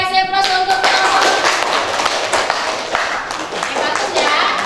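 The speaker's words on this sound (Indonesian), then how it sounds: "kasih aplaus untuk kelompok" A classroom group claps for a presenting group of students: a dense burst of hand clapping that carries on for several seconds, with a teacher and children talking over it.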